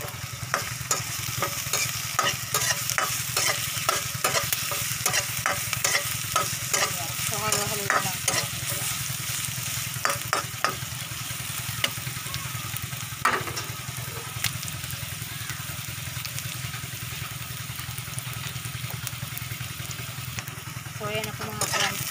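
Garlic and onions sautéing together in a pan for burong isda, a steady sizzle with repeated stirring scrapes, loudest in the first half, with a voice talking over it.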